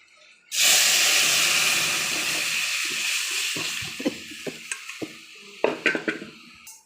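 Masoor dal with raw mango is poured into a wok of hot oil tempered with mustard seeds and dried red chillies. A sudden loud, steady sizzling hiss follows and slowly eases, with clinks of a utensil near the end.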